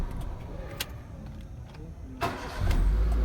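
Honda Civic with a faulty TDC sensor (code P1362) starting up: a few faint clicks, then a short cranking burst that catches into a loud, low engine rumble at the end.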